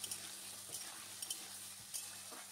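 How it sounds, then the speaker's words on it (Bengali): Ridge gourd frying lightly in a pan makes a faint, steady sizzle broken by a few soft stirring taps and scrapes of a spoon against the pan. "আমি একটু চাপা দিয়ে এগুলোকে একটু হালকা নেড়ে নিচ্ছি।"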